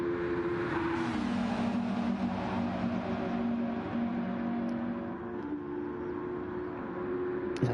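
GT3 race cars accelerate around Spa-Francorchamps in a racing video game, their engines droning steadily at high revs with shifting pitch throughout, loud and continuous and with no voices.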